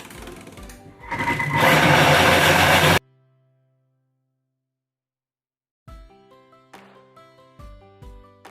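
A Thermomix mixes white flour at top speed 10: a loud, dense whirring roar runs for about three seconds and stops abruptly. Silence follows, then a string of soft, short tones.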